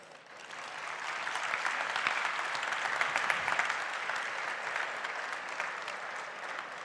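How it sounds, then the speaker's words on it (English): An audience at a student parliament event applauds a speaker, a sustained dense clapping that builds, holds steady and fades slightly over several seconds. "A big round of applause, my friends, for Madam Rupa Ganguly"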